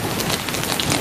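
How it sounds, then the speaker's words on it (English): Heavy rain pours steadily during Superstorm Sandy, a dense, continuous hiss of drops beating on surfaces with no pauses, loud and close, with no voices. "The rain, of course."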